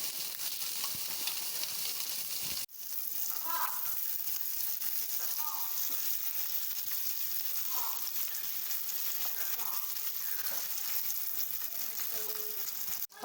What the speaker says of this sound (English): sausages pretty much already have a lot of oil. We're just gonna cook those until they're nice and brown.